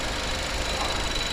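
A rebuilt BMW 320i F30 turbo engine idles steadily with the hood open, giving a dense, even mechanical hum with a faint ticking texture, close and continuous throughout.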